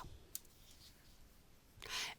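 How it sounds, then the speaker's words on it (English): A single sharp left mouse click on a computer during appliqué design work, quiet and close, followed by a soft hiss of rustle near the end. "I'm going to left mouse click on screen."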